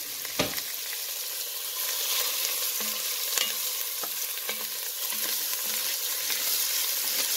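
Onions, garlic and jalapeno fry in a pan with a steady close sizzle, broken by a few scraping stirs and light clinks of a utensil, no voices.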